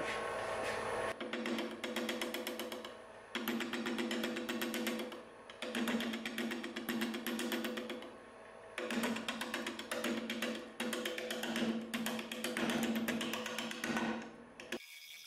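A wood lathe turns a maple burl and tinted resin blank at 300 RPM, an uneven, juddering mechanical drone with a steady hum, broken by brief dips, close and continuous, without speech.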